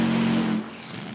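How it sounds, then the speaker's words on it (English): Nitro drag racing car at an IHRA Outlaw Nitro event idles high after its burnout, a loud steady engine drone that drops off sharply halfway through to a lower, quieter idle. "You hear that thing idling up a little bit after the burnout, and then you heard it slow down."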